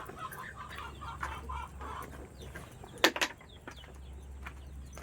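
Brooding hen sitting on a clutch of many eggs in the provinces, making soft, low clucks close by, with one sharper squawk partway through, against a faint background hum.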